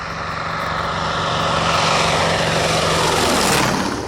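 A Corsair fighter's propeller engine roars loud and steady, close by, with a continuous dense drone whose pitch sweeps at the end as the plane passes.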